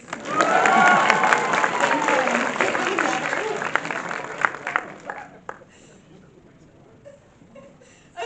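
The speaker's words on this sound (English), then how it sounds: "Give me some applause." A crowd at a fan expo cosplay competition claps and cheers, with shouts and whoops over dense applause that peaks early and fades out after about five seconds, leaving scattered claps and quiet.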